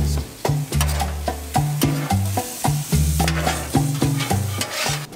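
Microwave rice is fried on a hibachi grill: a metal spatula clanks and scrapes against the hot surface in a quick, steady rhythm over a bright sizzle, close and fairly loud.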